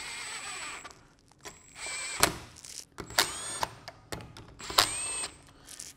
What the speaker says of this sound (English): I'm going to use the impact for time's sake, but not the final tightening.